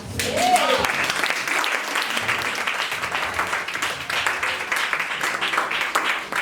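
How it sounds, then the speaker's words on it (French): A church congregation applauds for mothers during a sermon, broad continuous clapping and cheering that holds steady throughout, with voices mixed in. "Oh, acclamons pour les mamans."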